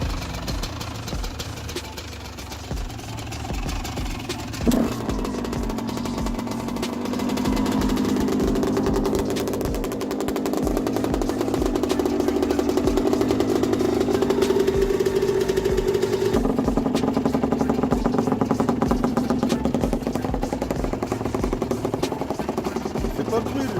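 A Yamaha YZ 125 two-stroke motorcycle engine running after repair, idling with a steady buzzing drone that rises a little in pitch and loudness, with people talking nearby.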